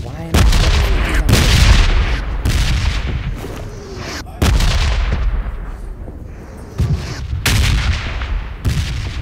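Booming artillery blasts and rattling gunfire fill a war video game battle, with repeated loud, close impacts rolling into each other at irregular intervals.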